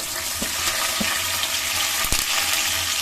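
Green chilies and curry leaves fry in hot oil with a steady close hiss, broken by a few light stirring knocks from a utensil in the pan.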